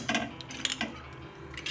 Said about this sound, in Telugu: ఇలా ప్యాన్ అంతా ఆయిల్ అప్లై చేసుకోవాలి.